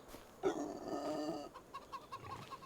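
A chicken in Farming Simulator 25 gives a short clucking burst, then several softer clucks follow, fairly close and fairly quiet, with no talking.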